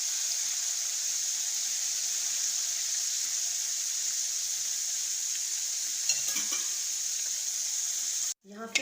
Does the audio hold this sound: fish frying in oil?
yes